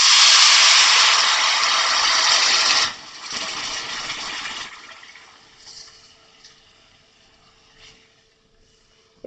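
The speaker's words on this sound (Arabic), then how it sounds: "حطيت الملح اهو، بعدين هنزل عليه المية السخنة." Hot water is poured from a container onto rice seasoned with salt and spices: a loud, steady rushing pour that cuts off, then trickles and fades into faint bubbling.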